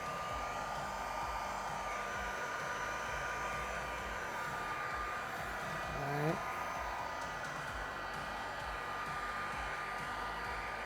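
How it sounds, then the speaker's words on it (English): Heat gun blowing steadily while vinyl wrap goes onto a Tesla Cybertruck, a constant close airflow roar lasting the whole stretch with a faint brief tonal warble near the middle. "Keep the heat gun moving."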